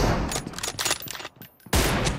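M24 sniper rifle fire in a video game: a loud, dense crackle of gunfire that dips briefly, then returns with a sharp, heavy report near the end.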